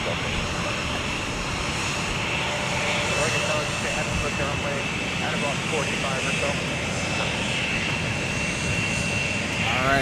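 A jet airliner taxiing at MSP airport on a winter day, a steady loud engine whine and rumble holding through the whole stretch, a nearby voice speaking over it at times.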